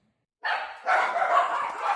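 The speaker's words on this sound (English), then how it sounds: "So my dogs are going crazy." Dogs bark excitedly at home during birthday party setup: a short bark, then a longer, sustained burst of rough, close barking.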